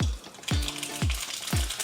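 Mustard seeds crackle in hot oil for a tempering, a close, steady sizzle with four regular bursts of popping spaced about half a second apart.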